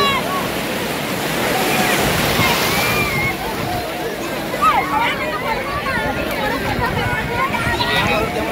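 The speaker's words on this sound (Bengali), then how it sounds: "ঢেউ আসছে।" Sea waves wash in at Puri beach, a steady broadband surf roar with sloshing surges throughout, while voices chatter over it.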